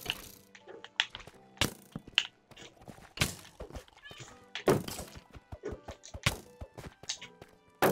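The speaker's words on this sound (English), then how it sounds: "I just hear my cats" Cats meow faintly a few times amid irregular thunks, taps and knocks, some loud and close.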